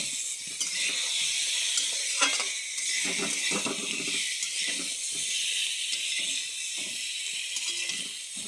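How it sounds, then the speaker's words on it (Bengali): Aubergine frying in oil gives a continuous bright sizzle and hiss, close up, with occasional scraping and stirring sounds from a utensil in the pan, no talking. "এরম বেগুনটাকে এর মধ্যে ভালো মতন ভেজে নিতে হবে।"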